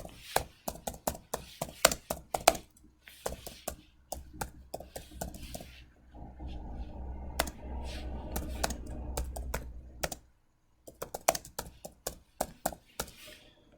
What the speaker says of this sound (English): So I'll type that in the title.